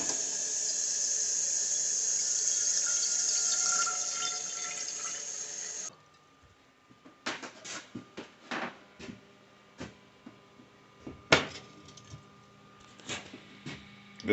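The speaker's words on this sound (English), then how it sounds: "I'm going to put a little water in here." Water streams for several seconds into a flat-bottomed stainless steel pan on an induction cooktop, a bright steady splash that stops abruptly, followed by scattered clinks and small handling knocks.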